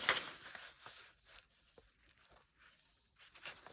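Scissors cutting paper for a junk journal yearly planner, close and quiet, with a rustling snip at the start and a few soft slicing strokes spaced out after it, no talking.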